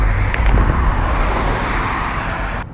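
A BMW car turns on a city street nearby, its engine and tyre noise a loud, broad rumble that holds steady and then fades slightly as it moves off.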